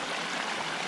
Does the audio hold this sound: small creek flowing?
yes